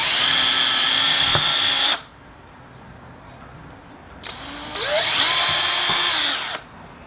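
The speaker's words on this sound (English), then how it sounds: "So we're going to drill the holes." Power drill boring holes while fiberglass tweeter pods are installed in a car, two loud, high-pitched whining bursts of about two seconds each, separated by a quiet pause, with the motor pitch shifting slightly as it spins up.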